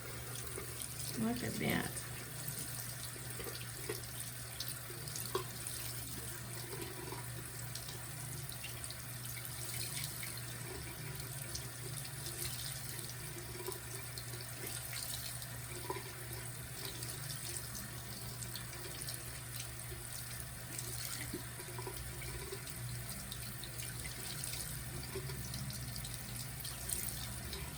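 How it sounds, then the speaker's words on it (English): A bathroom tap runs steadily while a makeup brush is rinsed under it, a constant close hiss of water with light splashing and a brief remark spoken over it. "And then just rinse it out"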